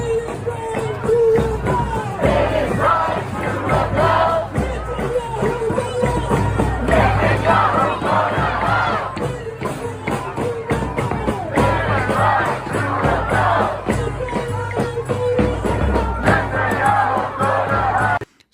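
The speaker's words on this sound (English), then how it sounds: "So quite the crowd there" A large crowd of protesters marches through the streets of Washington DC against Netanyahu, a dense roar of many voices with shouts, chants and cheers rising and falling continuously.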